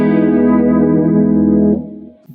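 Electric guitar run through a TC chorus pedal, a sustained shimmering chord with a lush, slightly wavering modulation, loud and alone, ringing for nearly two seconds before being cut off and fading.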